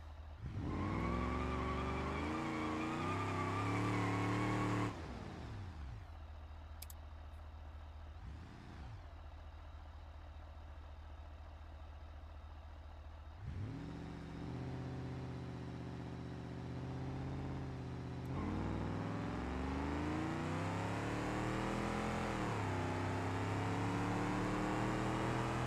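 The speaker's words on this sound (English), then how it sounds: "Alright, I've put an extra 100 horsepower of nitrous on this thing." In BeamNG, a game car boosted with a 100-horsepower shot of nitrous revs hard on a dyno, its engine tone climbing steeply, dropping off, then rising again in long loud pulls with no talking.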